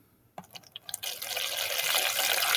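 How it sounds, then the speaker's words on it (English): Room-temperature water pours steadily into a container for a salinity and temperature density-current experiment, starting with a few brief splashes and clinks, then settling into a continuous, fairly loud stream. "I'm going to add some more water in here"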